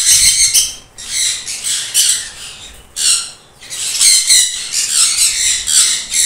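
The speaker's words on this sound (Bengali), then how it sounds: "আমার বা সাইডে আছে এক পিস সানকুনুর" A fully adult sun conure gives harsh, piercing squawks in repeated bursts with short gaps between them, loud and close.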